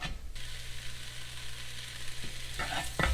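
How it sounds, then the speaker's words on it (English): Bacon sizzles steadily in a cast iron pot over medium-high heat for an Irish beef stew, a constant close frying hiss, with a few utensil clatters near the end. "Alright, so now I'm going to add the bacon."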